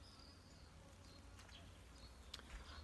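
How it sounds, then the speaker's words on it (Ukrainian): Faint buzzing of bees among flowering plants in a quiet morning garden, a soft steady hum with a few brief louder passes and low background rumble. "Цвітуть квіти, літають бджоли."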